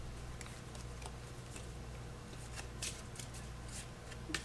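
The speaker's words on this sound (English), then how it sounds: "Shuffle these in." Deck of game cards shuffled during an Earthborne Rangers tabletop session, soft quiet riffles and flicks in short bursts against low room hum.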